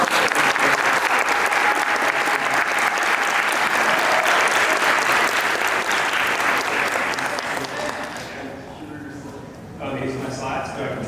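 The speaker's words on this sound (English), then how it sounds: "Everyone give a round of applause." A university audience at Columbia gives a loud, sustained round of applause for around eight seconds before it thins out, and a voice then begins speaking into the quieter room.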